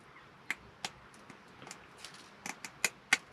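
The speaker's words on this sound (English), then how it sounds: "Oh, normal scissors for the win." Ordinary scissors snipping through fly screen mesh for a DIY campervan awning: a series of sharp, close, faint clips spaced irregularly, quickening toward the end.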